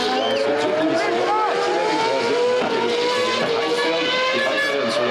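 Formula 1 cars at Saturday practice for the 2001 Canadian Grand Prix on the Circuit Gilles Villeneuve scream past, high-pitched engines rising and falling continuously, with a commentator talking over them.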